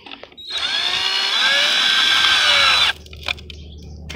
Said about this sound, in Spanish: si tiene un taladro, pues con el taladro es más fácil